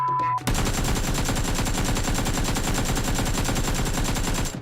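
Rapid, sustained automatic gunfire in PUBG on the Sanhok map rattles loudly and continuously for several seconds after a brief quiet start, dense and mechanical like game weapon effects.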